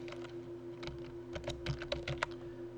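Fingers type on a computer keyboard in a quiet room, a short run of soft, irregular key taps heard close and alone over a faint electrical hum.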